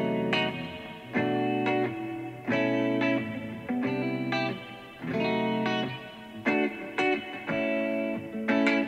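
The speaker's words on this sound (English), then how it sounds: "the main idea I had for this track was this little guitar part" A guitar part run through effects plays a repeating pattern of chords with distortion and reverb, in clear, sustained phrases with short gaps between them and no talking.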